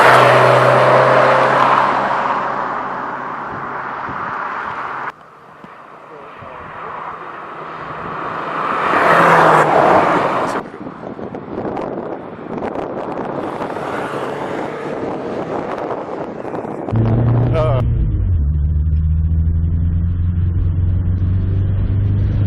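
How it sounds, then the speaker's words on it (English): Renault 5 Turbo 2 driving on a mountain road, a loud engine drone rising and falling through gear changes, heavy with wind buffeting on the microphone and rumbling cabin noise. "it's a Renault 5 Turbo 2"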